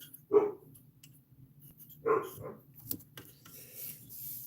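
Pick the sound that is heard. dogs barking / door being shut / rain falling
dogs barking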